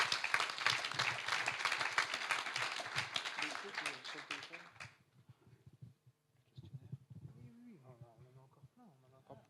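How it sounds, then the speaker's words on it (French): An audience at a business evening applauds the four speakers with dense, loud clapping for about five seconds, which stops abruptly and gives way to someone talking. "on va d'abord les applaudir"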